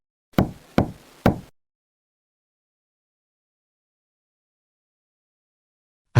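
Three sharp knocks on a door in quick succession, loud and close, then long silence before a faint sound at the very end.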